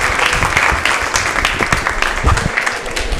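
An audience at a yoga centre gathering bursts into loud, sustained applause, dense clapping filling the room with a few voices mixed in.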